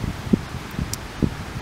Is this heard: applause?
no